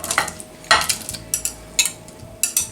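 A spoon scrapes and clinks against a bowl while stirring eggs mixed with chopped poultry frankfurters, tomato and pepper, in several separate sharp strokes with short pauses between them.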